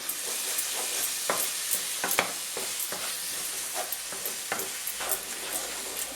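Vindaloo curry is stirred in a hot pan, with a steady sizzle and hiss of frying under repeated scraping strokes of the spoon, close up and continuous, with no voices.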